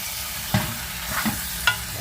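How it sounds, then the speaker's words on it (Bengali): Chicken being stirred in a pan of fried-down masala, a soft scraping and gentle sizzle with a few sharper spoon knocks against the pan, close up and without talk. "এখন চিকেনটাকে নাড়ছি।"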